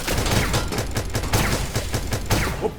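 Rapid gunfire from the video game Starbound, a dense volley of sharp shots repeating at a steady fast rhythm, loud and close throughout with no talking.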